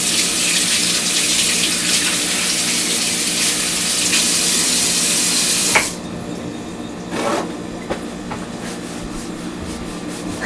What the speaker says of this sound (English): Give my hands a quick wash.